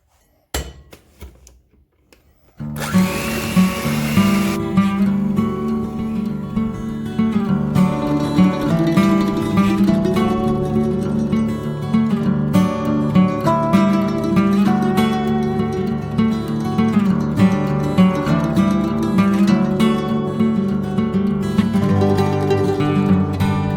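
An electric hand mixer beats chocolate cookie batter, starting after a few quiet seconds and then running as a loud, steady whir with light clinks against the bowl.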